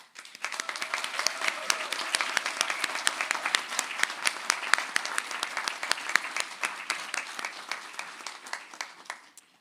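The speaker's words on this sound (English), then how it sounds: "Let's hear it for all of our graduates in a very loud first round of applause." Audience at a university graduation ceremony in Liverpool breaks into loud, sustained applause, dense clapping from many hands that holds steady for about nine seconds before tapering off at the end.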